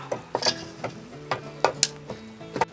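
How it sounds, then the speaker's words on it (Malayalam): Coriander powder is stirred into egg roast masala in a pan, making intermittent scraping taps of a spoon against the pan at an irregular rhythm, close by, with a faint sizzle in between. "മൂന്ന് സ്പൂണ് മല്ലിപ്പൊടി ഇടാം. നന്നായിട്ട് ഇളക്കി."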